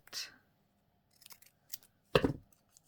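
Scissors trim through paper for a junk journal project, a few sharp close snips with a louder cut near the end, with quiet handling in between.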